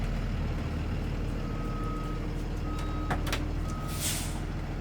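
Reversing beeps from a bus during a pre-trip vehicle inspection sound as a steady series of repeated tones over a constant low idling engine rumble, with a brief hiss of air near the end.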